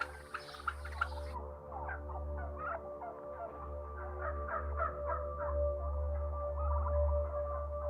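Factory-farmed turkeys in a crowded poultry shed give a steady overlapping chorus of gobbles and calls over a constant low ventilation hum.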